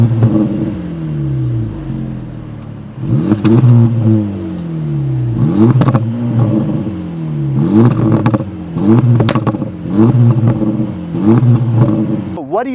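A 2024 Acura Integra Type-S revs repeatedly through its triple exhaust, a series of sharp blips rising and falling in pitch, loud and close, with pops and crackles between throttle stabs.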